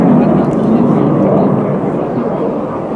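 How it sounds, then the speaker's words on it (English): A Swiss Air Force F/A-18C Hornet jet makes a final high-speed pass at an airshow, a loud, broad roar that fills the clip and slowly eases, with a commentator's voice over it. "Positioning now for a final high-speed pass in from our left."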